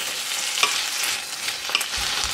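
Capsicum, curry leaves and coriander fry in a pan with a steady close hiss, broken by a couple of brief stirring scrapes and a low knock near the end.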